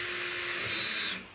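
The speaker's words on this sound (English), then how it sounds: "Put my drill bit in the chuck." A high, whining power drill bores into wood at full speed for about a second, then cuts off and winds down quickly.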